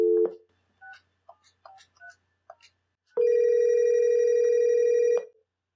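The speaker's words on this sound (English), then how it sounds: "So this phone is physically ringing" A telephone connected to a homemade phone line simulator rings once with a loud, steady electronic tone lasting about two seconds, preceded by scattered short beeps from the line.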